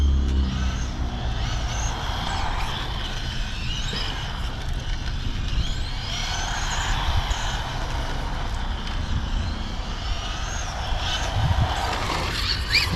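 A car lapping a circuit heard from trackside, a distant engine drone rising and fading as it passes, steady and fairly faint against outdoor background noise.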